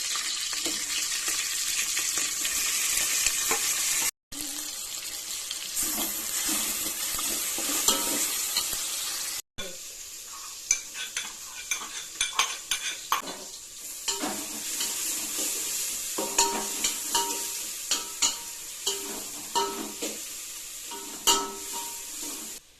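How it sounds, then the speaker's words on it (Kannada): Cinnamon sticks, cloves, bay leaf and chilies fry in hot oil in a pan, a steady close sizzle with frequent sharp pops and spatula scrapes, broken by two brief silent cuts, no voices. "ಇವಾಗ 2 ಚಕ್ಕೆ, 4 ಲವಂಗ ಮತ್ತು ಅನ್ನದೆಲೆ, ಇಷ್ಟು ಮೆಣಸಿನ್ಕಾಯಿ ಹಾಕ್ತಾಯಿದ್ದೀನಿ."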